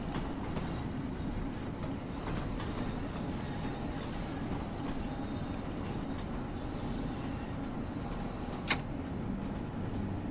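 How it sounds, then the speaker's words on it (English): A London Underground Bakerloo Line train in Train Sim World 2 rolls past with steady rumbling and clacking wheels, a continuous rail drone with a brief squeal near the end. "Another train passing us on the right."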